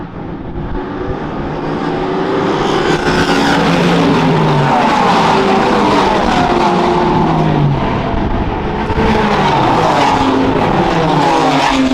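GT race cars racing at Silverstone, loud engines roaring past one after another with rising and falling pitch and gear shifts, continuous and close for the whole stretch.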